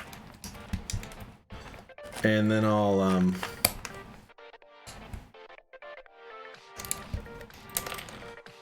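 Typing on a Drop CTRL mechanical keyboard produces clusters of close, crisp key clacks in uneven bursts, with a brief voice speaking in between.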